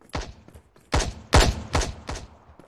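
A burst of several loud gunshots in quick, uneven succession from the video game Crossfire Zero, close and sharp, with brief echoing decay between shots.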